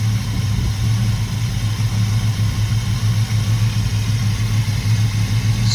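A 1981 Chevrolet Camaro with a 305 V8 and a mild Crane Fireball cam idles close by, a steady, even low rumble with no voices over it.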